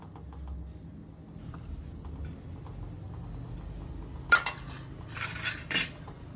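A spoon stirs Eno and water into semolina dhokla batter, making a few light clinks against the bowl after a long quiet stretch with faint background noise.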